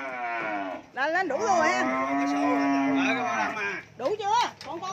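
Cattle moo loudly and repeatedly at a cattle farm as they are loaded onto a truck, long drawn-out bellows close by, with people talking between the calls.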